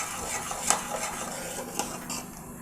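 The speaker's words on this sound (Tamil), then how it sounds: "அது கொதிக்க ஆரம்பிக்கிற வரைக்கும் நீங்கள் அதை கலரிண்டே இருக்கணும்" A spoon scrapes and clinks against a pot while stirring Gujarati kadhi, with a couple of sharper knocks against the metal, close and fairly quiet.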